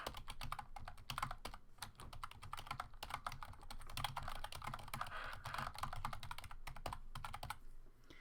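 A mechanical keyboard is typed on lightly, rapid soft clicks and taps in an irregular stream, quiet and close, with no talking.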